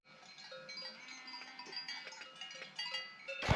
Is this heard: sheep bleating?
yes